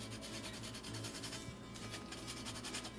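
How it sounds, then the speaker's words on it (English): A lemon is zested straight into a pot for shrimp scampi using a handheld zester, giving a steady, close, continuous rasping scratch with quick repeated strokes and no talking. "we're going to zest one lemon into the pot with this funky tool"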